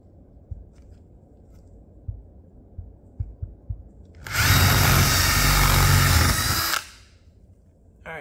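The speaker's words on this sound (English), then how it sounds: "I'm gonna drill a hole" Power drill boring a hole for a garage LED recessed light, a loud steady whine lasting about two and a half seconds after a few quiet clicks and taps, then stopping abruptly.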